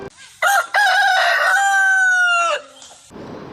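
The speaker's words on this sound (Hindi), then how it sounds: "मुर्गे की आवाज़ पूरे जंगल में गूंज गई।" A cartoon rooster crows one long, loud cock-a-doodle-doo at daybreak in a Hindi forest story. The call rises, holds steady, then drops off into a soft hiss.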